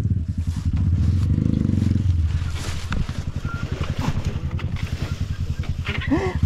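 A Yamaha DT 125 dirt bike descends a muddy downhill trail, its engine chugging with a low, uneven two-stroke putter and brief revs under wind noise and scraping.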